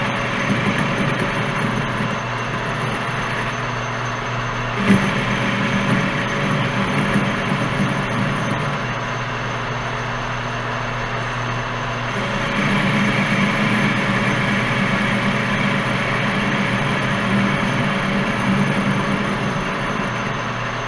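Electric fence wire winder running steadily at 570 RPM, a constant loud mechanical hum and drone throughout, with a brief bump near five seconds and a slight rise in level after twelve seconds.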